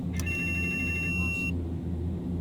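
A Carenado F50 autopilot disconnect warning sounds in a flight simulator: a sharp, high electronic tone sustained for about a second and a half over the steady low hum of the cockpit.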